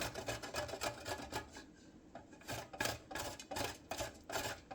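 An avocado seed is scraped against a fine metal grater in quick, close rasping strokes that come in bursts with a short pause midway, faint overall and with no talking.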